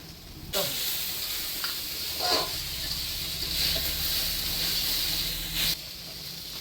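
Soybean oil sizzling in a wok as fish goes in to fry, a steady loud hiss that runs throughout, with a brief clatter near the start and end.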